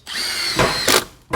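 A power drill drives screws into window framing blocking in a cold garage build: a loud close whine that ramps up, surges twice in quick bursts, dips, then kicks in again briefly.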